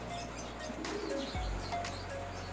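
A racing pigeon gives a soft, low coo, faint and close, in a quiet room.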